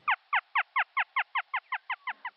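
Free-tailed bat echolocation calls closing in on prey such as a flying insect, heard as a dozen crisp, evenly shaped chirping pulses that come slightly faster toward the end, with no voices.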